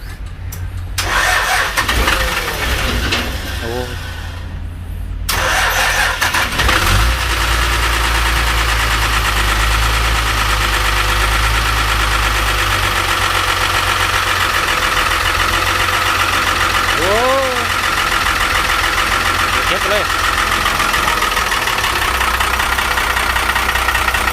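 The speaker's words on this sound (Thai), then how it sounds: "เดี๋ยวมา ลอง สตาร์ทเครื่องดูครับ" A 6-metre minibus engine cranks and fires after a short starting burst, then settles into a loud, steady idle with a low rumble that runs on without pause.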